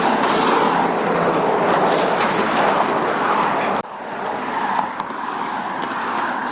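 Steady roar of road traffic passing close by on Tillicum Road, a continuous broadband rush with a brief dip midway before the din resumes.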